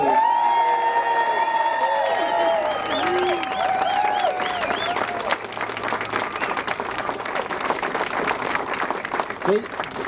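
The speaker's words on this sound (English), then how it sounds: "how about a big round of applause for our 8th District police officers?" A crowd at a rally for Chicago's new 8th District police station cheers with high whoops and whistles, then breaks into sustained, steady clapping that carries through to the end.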